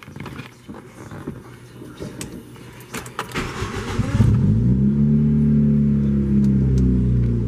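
Clicks and handling noises, then a 1991 Lotus Elan engine cranks and catches, settling into a steady idle with a slight rev, loud and close.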